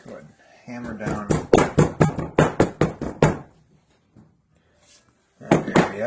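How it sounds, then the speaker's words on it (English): A hammer strikes leather being worked into a briefcase, about a dozen sharp, evenly spaced blows in a quick run, a short pause, then a few more hits close to the microphone. "Go ahead and hammer down."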